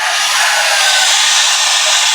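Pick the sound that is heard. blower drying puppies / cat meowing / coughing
blower drying puppies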